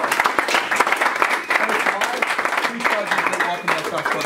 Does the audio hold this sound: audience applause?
yes